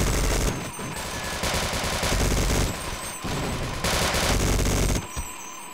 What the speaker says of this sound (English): What this gun lacks in accuracy, it makes up for in volume of fire